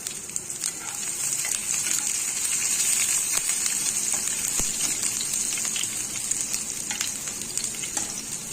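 Chopped large onions sauté in a pan for potato rice, a steady close sizzle with brief stirring sounds throughout.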